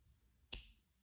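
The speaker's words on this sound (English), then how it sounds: "So first time clicking it." A single crisp click from a Grimsmo Grail titanium EDC pen with stonewashed and DLC finish, one sharp close snap in an otherwise quiet moment.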